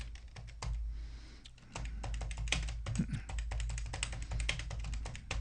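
Rapid, uneven clacking of keys on a computer keyboard as code is typed, close and fairly steady over several seconds with brief pauses, no talking.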